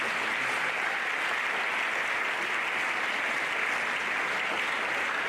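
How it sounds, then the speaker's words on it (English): An audience at an academic lecture event applauds a group of distinguished scholars, a dense, even wash of many hands clapping that carries steadily at moderate volume from start to finish. "please let's give a round of applause to all these distinguished and eminent scholars"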